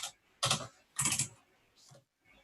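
A computer keyboard being typed on while coding a NodeJS project, heard as a few dense, close bursts of rapid key clatter with brief gaps and a softer trailing patter.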